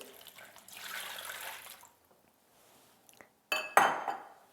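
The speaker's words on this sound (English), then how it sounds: "now let's put our water" Water poured into a cooking pan while making sooji halwa, a brief splash and clatter of pan and utensil after a softer stretch of kitchen sounds, close and fairly loud at the end.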